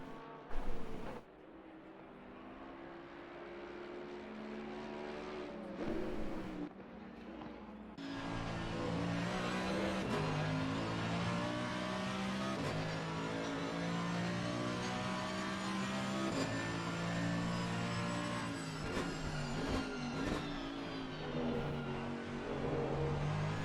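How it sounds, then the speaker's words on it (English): A GT race car engine in Assetto Corsa Competizione roars steadily during the 4 Hours of Zolder endurance race, revs climbing and holding loud and close with a layered, gritty tone, no voices. "The grunt that it makes is probably unrivaled in terms of Grand Touring cars."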